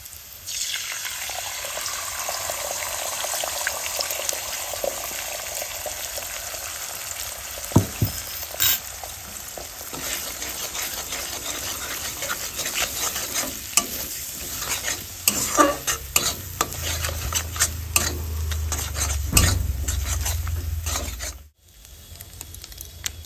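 An egg is added to potato and onion frying in a pan for chow mein, a continuous close sizzle with frequent spatula scrapes and clacks against the pan.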